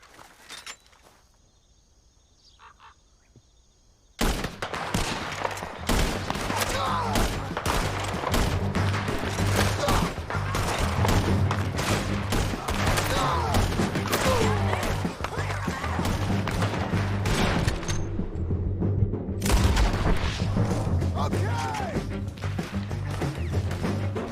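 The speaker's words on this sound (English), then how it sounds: "Let's just start shooting" Sustained gunfire in Red Dead Redemption 2, a dense barrage of rapid shots and thuds that breaks in after a brief quiet start, carries on loud almost without pause, dips for a moment, then resumes, with game sounds layered underneath.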